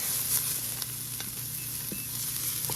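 Onions sear on the sear setting of an Instant Pot air fryer, giving a steady close sizzle with a few faint clicks of stirring, no voices.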